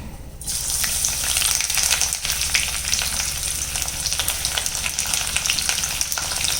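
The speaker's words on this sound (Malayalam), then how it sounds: "എണ്ണ ചൂടായിട്ടുണ്ട്. ഇതിലേക്ക് നമുക്ക് ഇഞ്ചി, പച്ചമുളക്, കറിവേപ്പില ആദ്യം ഇട്ട് കൊടുക്കാം." Ginger, green chilli and curry leaves drop into hot oil, bursting into a loud, dense frying hiss that holds steady with crackling pops and stirring, no talk over it.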